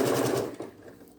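A sewing machine stitches a short rapid run at quilting, its fast mechanical chatter close and clear before quickly slowing and fading to a stop.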